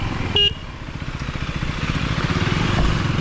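Motorcycle engine, a KTM 390 or Royal Enfield Himalayan 411, rumbling steadily in low gear on a rough monsoon road downhill to Rajmachi, close and continuous with a brief horn-like tone near the start.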